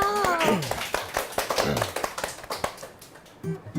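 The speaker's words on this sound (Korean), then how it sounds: "박수 한번 주세요" An audience on a Korean entertainment news show claps, scattered sharp hand claps standing out against a singing voice and background music.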